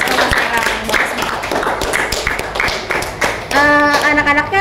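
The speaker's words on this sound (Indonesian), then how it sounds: "Tepuk tangan buat SMKN 13 Kota Serang." Brief scattered clapping from a school group during a talk session, a few distinct hand claps mixed with chatter and background voices, ending in a louder burst with a tonal sound over it.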